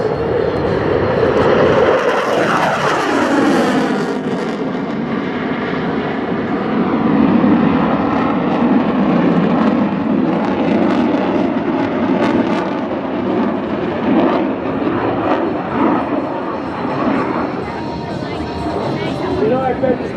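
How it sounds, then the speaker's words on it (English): An F-15 jet makes a high-speed low pass at an airshow, a loud roaring rush with a sweeping doppler shift as it passes, then a sustained thunderous engine rumble, with an announcer talking over it. "Here's the F-15."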